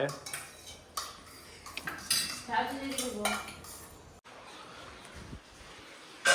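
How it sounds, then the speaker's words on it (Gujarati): Metal utensils are scrubbed and washed at a wedding, with scattered clinks, scrapes and clatters of pots and cutlery at moderate distance and no clear talk. "હજી કામ ચાલુ છે વાસણ ઘસવાનું"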